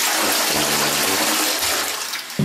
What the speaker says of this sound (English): Now, I'm assuming that number two has a mightier flush.